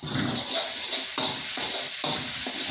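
Shallots stir-fried in a pan, a steady close sizzle with a few scraping stirs of the spatula cutting through.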